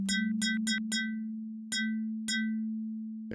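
An FM8 synthesizer patch built from sine-wave operators sounds a steady low tone, while bright bell-like notes strike in a quick run and then two sparse hits. Each note has a long release that fades out slowly.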